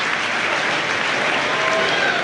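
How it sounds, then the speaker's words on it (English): Dense, steady applause from a large Premier League football crowd, a continuous wash of clapping that sounds broad and distant, as in a stadium. "7 minutes into the second half, the applause for Lee Bartholomew"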